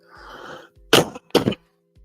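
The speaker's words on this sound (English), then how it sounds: "I'm still having that cold, so if you hear me coughing, just bear with me." Two sharp coughs close together, loud and near, from a person with a cold, following a stretch of soft breathy noise.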